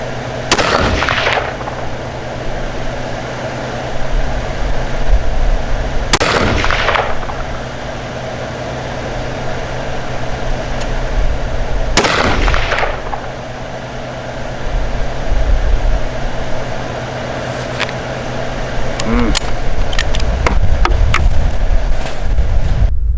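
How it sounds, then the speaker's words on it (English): A 22-250 rifle fires three loud, sharp shots, spaced about six seconds apart, at an outdoor range during a grouping session, with a low engine-like rumble running underneath and a few faint clicks near the end. "those shots I just zoomed in on, that was my second group with that 22-250"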